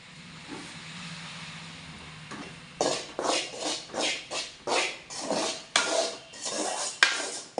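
Rice flour roasting in a pan, heard as a run of rhythmic scraping stir strokes from a spoon against the pan, close and fairly loud, after a quieter start.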